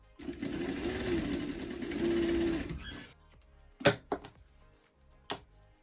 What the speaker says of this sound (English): I think my sewing machine will do just fine.